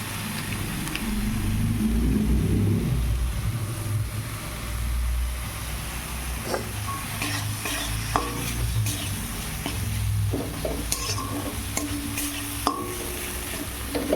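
Aloo dum masala fries in a pan, a constant close sizzle with a spoon stirring and scraping through it, a low rumble beneath during the first few seconds, and no voices.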